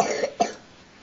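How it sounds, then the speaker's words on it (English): A person coughs twice in quick succession, close to the microphone, then the room falls quiet. "it's because I'm getting coughed in my face"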